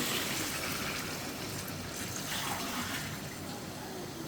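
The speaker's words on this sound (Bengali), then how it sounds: "আমি পানিটা একটু বেশি দেবো" Water pours steadily into a pot of braised beef and potato curry, a continuous close splashing rush that holds at an even level for the whole stretch.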